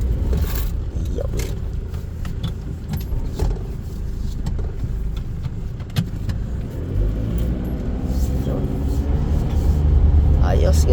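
An Isuzu Crosswind with a freshly rebuilt transmission drives along a road in traffic, its engine and road noise rumbling steadily and building toward the end, with a voice talking over parts of it.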